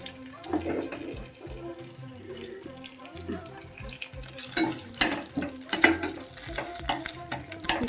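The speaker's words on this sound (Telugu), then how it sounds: "వెల్లుల్లిపాయ కొంచెం ఎక్కితే వాసన బాగుంటుందని నేను ఫస్ట్ వెల్లుల్లిపాయలు వేస్తానండి." Garlic frying in hot oil for a moringa and moong dal curry gives a close, crackling sizzle that swells and spatters partway through, with a voice talking over it.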